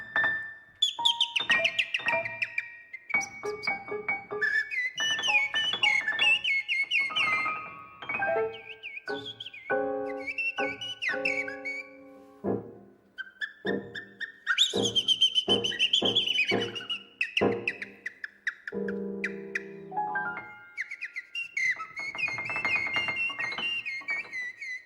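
A person whistles a varied, warbling birdlike melody of fluttering phrases and trills, imitating a blackbird's song, continuing for a long stretch without talk.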